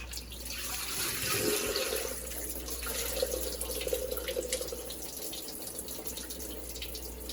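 Tap water running into a bowl for the final rinse of rice for jollof rice, a steady splashing flow with some swirling and sloshing of grains partway through, close by, no talking.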